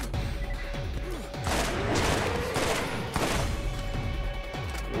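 Gunfire in Borderlands, with rapid overlapping shots and bursts in a busy fight, several louder cracks and crashes standing out among the fire.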